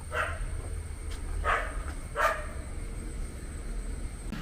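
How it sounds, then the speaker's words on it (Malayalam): A dog barks three times in short bursts at a moderate distance, spaced roughly evenly over a low steady background hum. "ആ പട്ടി ഇപ്പോഴാണോ കുരയ്ക്കുന്നത്?"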